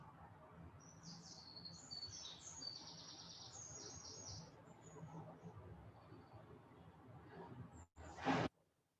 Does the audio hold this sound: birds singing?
yes